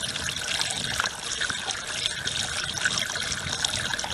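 Fresh water runs steadily into an RV tank, a constant hissing, splashing rush close by with no breaks and no voices.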